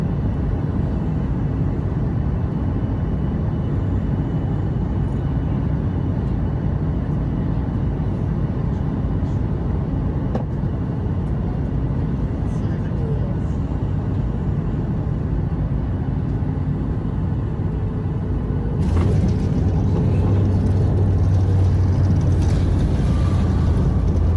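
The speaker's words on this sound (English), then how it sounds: "The approach saw us fly right next to the main Surfers Paradise strip. Please enjoy this landing footage." A Bonza airliner lands at Gold Coast, heard from inside the cabin: a steady, loud engine and airflow roar fills the whole stretch, with a brief rise in rumble and noise near the end as the wheels meet the runway.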